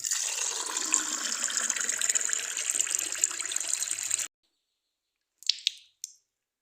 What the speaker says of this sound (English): I really need a drink of water.